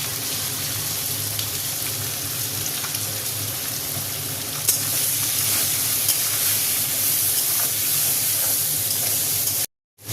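A steady, loud hiss of vegetables, tomato, coriander, chilli and spices frying in oil fills the scene, continuous and close, ending in a brief cut to silence.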